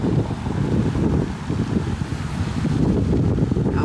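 Steady, loud, cold winter wind buffeting outdoors at Hidden Creek in Burleson, Texas, with a continuous low roar and rumble that gusts slightly but never lets up; no talking.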